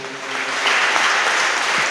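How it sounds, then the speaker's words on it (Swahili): A church congregation applauding during a worship service, a steady dense wash of clapping that swells slightly and holds, with no voices over it. "Ongeza makofi tena"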